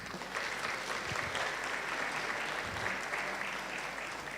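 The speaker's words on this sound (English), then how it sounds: "A round of applause for Carol." An audience at a graduation ceremony applauds steadily, a dense, even wash of many hands clapping, fairly distant and moderate in loudness, alone for the whole stretch.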